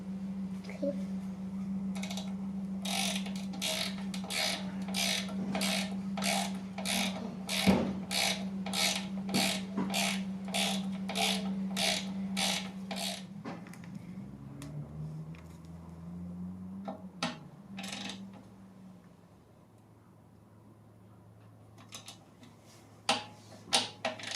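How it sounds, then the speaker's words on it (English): A ratchet wrench clicks in a fast, even run of ratchet strokes while working on the suspension of a 2021 Harley-Davidson bagger, then gives way to a few scattered clicks and soft mechanical rubbing, close and fairly quiet. "Grab the wrench."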